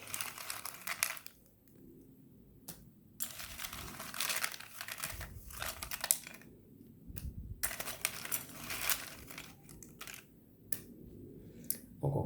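Tarot cards being shuffled by hand: bursts of papery riffling and crinkling alternate with brief quiet gaps, close and fairly soft, with no talking.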